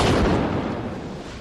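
A military test explosion lets out a loud, broadband blast at the start. Its rumbling roar slowly fades over a second or so.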